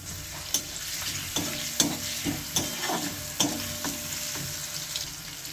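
Bay leaf and crushed garlic fry in hot oil for a village-style egg curry, giving a constant sizzle broken by regular sharp crackles and spatters, heard up close with no talking.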